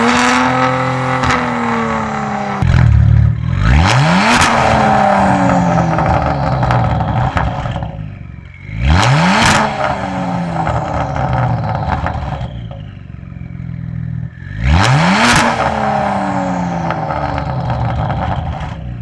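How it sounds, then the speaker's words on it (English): A straight-piped Kia Stinger is revved hard toward max RPM three times. Each rev climbs in a loud, rising roar and drops back to a rumbling idle between pulls. "Now for some max RPMs, let's hear this thing."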